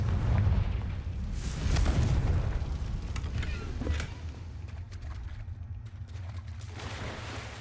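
A Confringo blasting curse in Hogwarts Legacy goes off as a deep, rolling boom with thick low rumble, peaking again with a sharp crack midway before fading into a steady murky drone.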